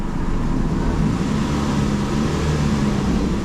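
A Chevrolet HHR engine idling steadily with a small exhaust leak from a cracked manifold, a low continuous hum and faint puffing heard close up in a repair shop, no distinct rattle standing out.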